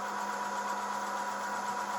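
A Breville Oracle Touch BES990 espresso machine's built-in grinder runs steadily, a constant close-up motor whir with a gritty, buzzing hum that holds level throughout without pause.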